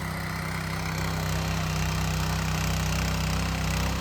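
A tractor engine churns a flooded rice paddy field before planting, giving a steady, droning mid-pitched hum with a throbbing rhythm that holds unbroken throughout.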